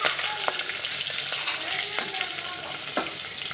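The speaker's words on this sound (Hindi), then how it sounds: "जैसे ही मिर्चें अच्छे तरीके से फ्राई हो जाएं" Green chillies frying in ghee for matar pulao make a dense, continuous sizzle with scattered pops and light crackles throughout, loud and close, with no voices.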